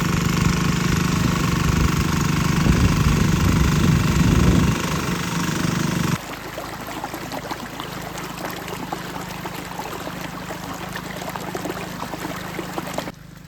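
A tractor engine runs steadily in a flooded paddy field during ploughing. It drones loudly at first with a watery churning underneath, then drops to a quieter, rougher rumble partway through.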